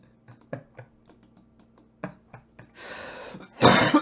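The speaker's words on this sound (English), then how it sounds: "Oh, that's making me cough a lot now." Several short coughs and a throat clear come in scattered bursts, followed by two louder, harsher coughing fits near the end, close to the microphone during a streamed game session, with no talking.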